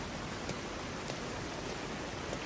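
Steady rain falling without pause in Kanai Ward, a perpetually rain-soaked city in a video game, forming an even, moderately loud wash of patter with faint scattered drops standing out, no voices.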